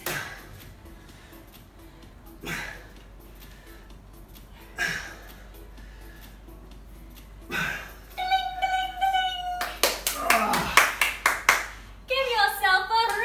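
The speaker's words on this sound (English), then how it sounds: "Give yourself a round of applause." Scattered handclaps from a few people after a bodyweight workout session, a few isolated claps at first and then a quicker burst, with voices speaking in between.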